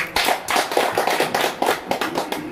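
An audience applauds to welcome the regent of Malaka at a gathering in Nurobo, a close, loud burst of many hands clapping in uneven rapid pulses for a couple of seconds.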